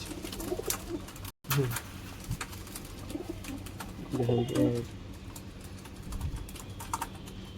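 Pigeons coo softly at a pigeon sale, their low throaty calls rising now and then over clattering, tapping background noise and faint talk.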